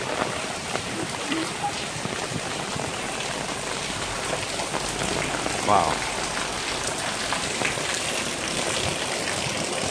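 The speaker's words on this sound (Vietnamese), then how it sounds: "Bây giờ thì mưa đang rất là lớn" Heavy rain pours steadily down in a narrow Saigon alley, a dense, constant hiss of drops hitting the ground and surfaces, loud and close, while a voice briefly exclaims.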